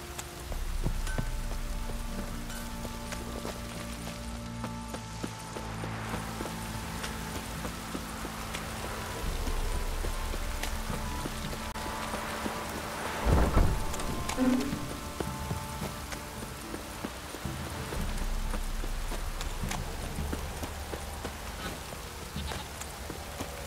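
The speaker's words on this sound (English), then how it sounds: "This downpour's a bastard" Heavy rain pours steadily for the whole stretch in the video game The Witcher 3: Wild Hunt, a dense constant hiss with a few faint thuds and clatters underneath.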